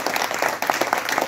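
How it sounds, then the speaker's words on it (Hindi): Applause from a training group in a workplace skills session, a short burst of dense clapping from a room of participants, close and fairly loud throughout. "जोरदार ताली"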